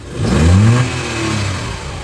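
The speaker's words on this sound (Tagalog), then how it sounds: "So try nating i-rev." A Mitsubishi Mirage engine is revved once, rising to a loud, close roar for about half a second before settling back to a lower running hum.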